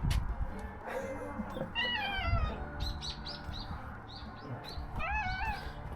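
A former stray cat meows several times, with high, wavering cries spaced out over a few seconds amid soft background noise.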